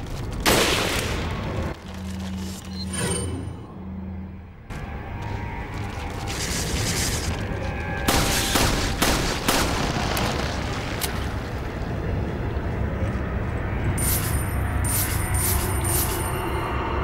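Rocket blasts and bursts of gunfire from the Resident Evil 4 video game, a dense, loud run of booms and rattling shots with deep rumbling impacts that keep going for the whole stretch, with no talking.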